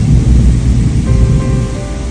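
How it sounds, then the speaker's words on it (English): A thunderstorm rolls in with heavy, steady rain and deep low rumbling thunder, loud and continuous throughout with no voices. "Big old thunderstorm just came in."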